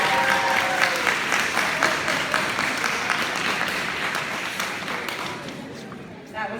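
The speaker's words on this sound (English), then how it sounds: "So please let's give a huge round of applause." Loud, sustained applause from a banquet audience at a school sports awards event, steady clapping and a few cheers filling the room for several seconds before tapering slightly at the end.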